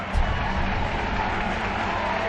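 Steady applause from a crowd at a Soviet communist gathering where Stalin applauds, a dense, even patter of many hands clapping continuously from start to finish with no voices standing out.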